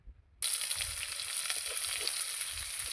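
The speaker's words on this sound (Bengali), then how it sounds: "এই যে মাছগুলো এখন আমার ভাজা প্রায় হয়ে গেছে" Fish fries in a pan on a gas stove, a bright steady sizzle that bursts in suddenly after a brief quiet start and continues evenly close to the pan.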